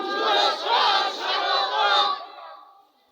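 A large crowd at a Bengali religious gathering shouts slogans together in a loud, sustained, rhythmic roar of massed voices, surging in repeated phrases before tapering off.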